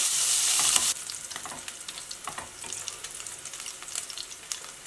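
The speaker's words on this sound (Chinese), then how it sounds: "首先热锅凉油，放五花肉" Pork belly sizzles in hot oil in a wok, a loud hissing burst at first that settles into a steady crackling fry with light scraping as it is moved around.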